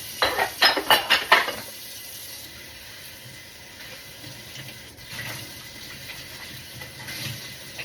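A large cooking pot being hand-washed at a sink, with a quick burst of clattering metal knocks and scrapes at the start, then a quieter stretch of faint running water and light handling noise.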